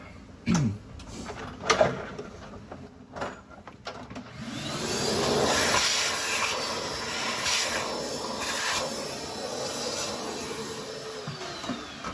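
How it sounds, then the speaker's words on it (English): A few clunks and knocks give way to a vacuum's steady whooshing roar that runs continuously, loud and close, with faint rattles of debris being sucked out of a cutting tool during Cummins engine fire-ring gasket work. "And you vacuum out the tool."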